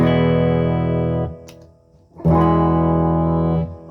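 Electric guitar single notes played through a Peavey Vypyr X2 amp on the clean channel ring out in two sustained, harmonically rich tones separated by a short pause, loud and close.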